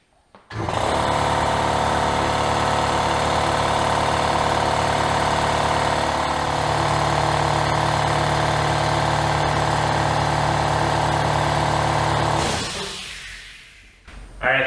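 A 75-year-old air compressor starts and runs about 20 feet away: a loud, steady mechanical hum with a rhythmic thumping pulse that holds constant, then winds down and stops near the end.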